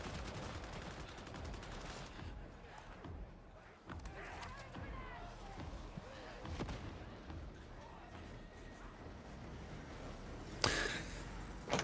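Gunfire in the Warhammer 40K Darktide video game during a horde fight, a dense mix of repeated shots and impacts under steady combat noise, with a sharper loud burst near the end.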